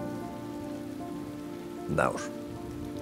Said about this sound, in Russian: Давай переждем дождь в кабинке.